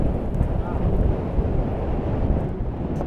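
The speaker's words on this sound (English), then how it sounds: "It is frickin' windy though." Strong wind while sailing in French Polynesia roars and buffets the microphone in a constant, heavy low rumble that covers everything else.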